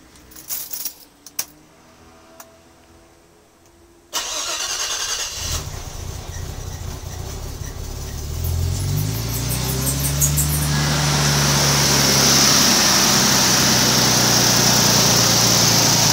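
A few clinks and rustles, then a Nissan Stagea engine with a repaired knock sensor cable cranks and catches, rising into a loud, steady idle that continues to the end.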